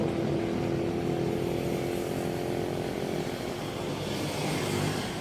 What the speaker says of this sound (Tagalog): maingay dito sa place ko kasi malapit ako sa gilid ng kalsada